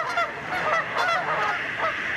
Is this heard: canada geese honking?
yes